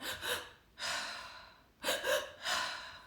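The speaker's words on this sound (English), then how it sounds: "a double intake of breath and then an exhale" A person breathes in deliberate cycles, each a quick double inhale followed by a long, audible exhale. The pattern repeats twice, close and clear, with no talking.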